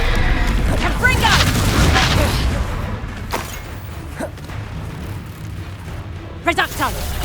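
Confringo fire-spell blasts in the Hogwarts Legacy video game: a loud booming burst with whooshing debris at the start, then a quieter stretch with short impacts and a shouted spell voice near the end.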